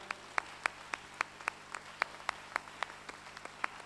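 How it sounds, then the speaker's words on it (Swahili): Worshippers at a church service clap together in a steady, rhythmic beat, crisp, evenly timed claps at moderate distance over a quiet background hum. "Makofi kwa neno, kwa makofi kwa neno"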